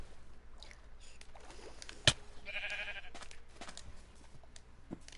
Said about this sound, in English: I need one more sheep.